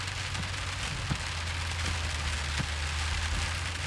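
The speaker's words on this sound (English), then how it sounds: "It just started raining." Steady rain falls just after starting, a dense, even hiss of drops on surfaces with a low constant hum beneath and a few louder drips, and no one speaking.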